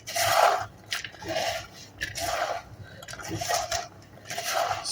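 Homemade cake dough is worked by hand in repeated rubbing, squishing strokes, about five soft pulses close by with quiet gaps between.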